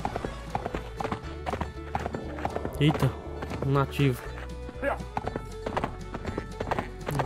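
Horse hooves clip-clopping in the video game Survivalcraft 2, a rapid steady run of close hoofbeats with a whinny midway, under someone talking.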